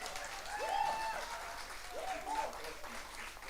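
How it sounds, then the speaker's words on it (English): Applause from a gathered crowd at an awards ceremony, clapping swelling steadily with faint cheers mixed in. "Round of applause for the staff,"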